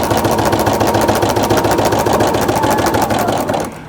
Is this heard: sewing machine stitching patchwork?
yes